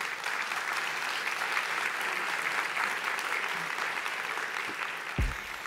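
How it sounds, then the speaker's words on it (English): Sustained audience applause at a workforce event, a steady dense wash of many hands clapping in a large room, continuing evenly for several seconds before a few louder thumps at the end. "Please, a round of applause for Sebastián."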